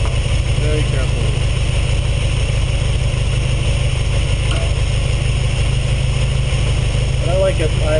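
A Ferrari 308 GTS engine idles steadily after a carburetor sync, a loud continuous low rumble and whir that holds an even, constant level throughout with no revving.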